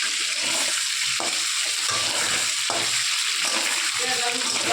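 Fish head seasoned with salt and turmeric frying in hot oil for muri ghonto: a loud, continuous sizzle with intermittent stirring and scraping in the pan, close up, no talk.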